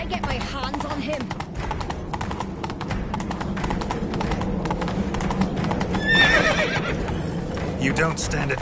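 Horses gallop with steady clip-clop hooves and a sharp neigh around the sixth second in The Witcher 3, set against a continuous bed of game music and ambience.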